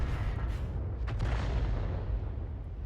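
A single heavy boom from an M40/M43 gun fired at the base of a tree in a video game, a deep rumbling blast that rolls off slowly under a low, steady background.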